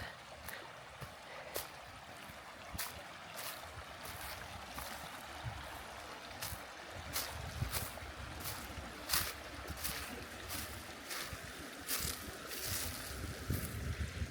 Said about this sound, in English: You always appreciate the sound of the water over the rocks.